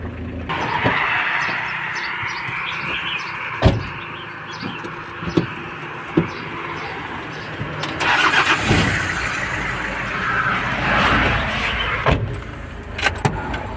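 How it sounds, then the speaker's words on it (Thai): A Toyota Hilux Mighty-X pickup idles just after starting, a steady low engine rumble heard up close, with a few sharp clicks and knocks, and the engine noise rises for a few seconds in the second half. "โอ้ติดเลย ติดง่ายด้วยนะครับ"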